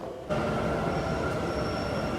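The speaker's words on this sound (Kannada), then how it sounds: "ಇದು ನಮ್ಮ ಕೆಂಪೇಗೌಡ ಮೆಟ್ರೋ ಸ್ಟೇಷನ್." A metro train at Kempegowda metro station in Bengaluru, heard as a loud, steady rumble of rolling carriages with a faint high wheel whine. It starts abruptly and holds strong throughout, with no voices.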